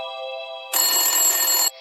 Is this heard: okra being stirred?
no